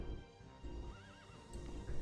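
A horse neighs from a mounted archer unit in the Rise of Nations strategy game, a single rising and falling whinny over a low rumbling game background, with faint hoof clip-clop near the end.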